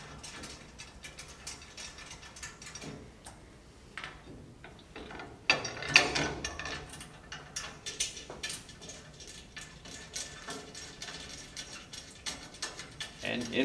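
A ratchet tightens bolts from a cubicle partition hardware kit, giving bursts of rapid clicking pawl ticks with metallic clunks of the hardware, close up and fairly steady throughout.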